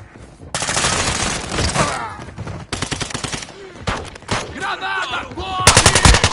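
Rapid automatic gunfire in Call of Duty Modern Warfare 2 multiplayer, loud and close, in long sustained bursts with short pauses and overlapping shots, plus a few other game noises between volleys.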